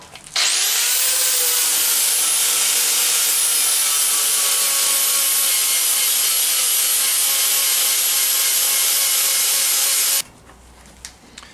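A power grinder runs steadily on a metal sword blade, smoothing it for a golden prop sword of Finn from Adventure Time; a loud, continuous whine of about ten seconds that starts abruptly and cuts off sharply, then near silence.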